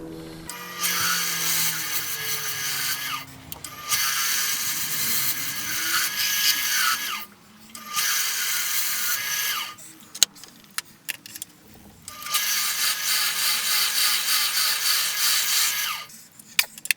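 Wood lathe turning a Pooh-style honey pot, bursts of loud high scraping hiss from the cutting tool against the spinning wood, separated by quieter pauses and a few sharp clicks.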